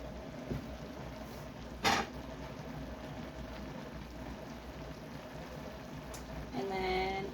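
Mushrooms boiling in a pot, a steady bubbling hiss that continues throughout at moderate level, with a single clatter midway and a brief tonal clink near the end.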